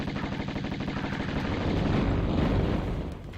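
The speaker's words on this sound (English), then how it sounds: "He's firing stuff at me." Enemy gunfire in the video game Tomb Raider, a dense, continuous barrage of rapid shots and blasts that stays loud and close for the whole stretch.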